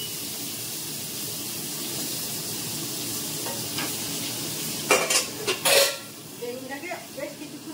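A steady hiss of brinjal slices sizzling in hot oil, with a few metal clinks and scrapes near the end.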